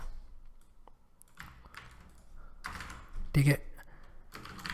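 Bursts of computer keyboard typing while writing Python web-scraping code, close and fairly quiet clicks in short runs, with someone speaking briefly in between.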